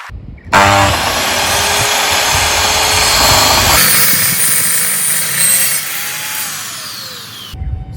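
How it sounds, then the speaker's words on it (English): A power saw set to 45 degrees cuts a miter in a wooden gate slat, a loud continuous whine that runs for about seven seconds, its tone shifting partway through, then spinning down. "I'm going to set our saw up now at 45 degrees so we can cut our miter."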